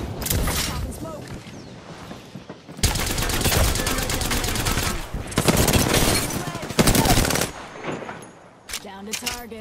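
Rapid automatic gunfire bursts in the Apex Legends shooter game, loud and close, with long sustained volleys separated by brief pauses and a few short bursts at the end, mixed with in-game voices talking.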